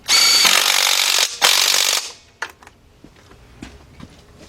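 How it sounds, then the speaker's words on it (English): An impact wrench on a 17 mm bolt of a 2006 Kia Sportage 2.7 engine hammers loudly in two close bursts, a long one then a shorter one, followed by faint clinks and handling noises. "This time we're going to be using impact."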